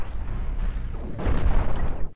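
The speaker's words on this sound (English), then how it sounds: "you can see they're wearing my shields down with those cannons" Cannons pound against ship shields during a space battle in the game Cosmoteer, a rumbling, booming barrage of low blasts that swells louder midway before cutting off abruptly.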